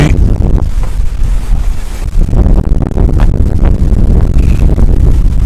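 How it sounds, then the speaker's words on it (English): A strong gust of wind sweeps across a cricket ground during a T20 cup match, roaring and buffeting the microphone into continuous, loud distorted rumbling that lasts throughout. "Gust of wind comes flashing across the ground, blows everything everywhere."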